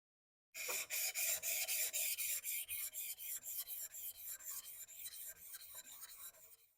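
A blade edge rubbed in quick repeated strokes against a ruler to remove the burr, making a rhythmic rasping scrape of about twenty close strokes that slowly fade, with no talking.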